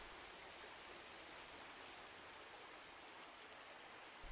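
Water flows in a stream at Mitaki, a steady, even rush of broadband noise, faint and continuous with no voices.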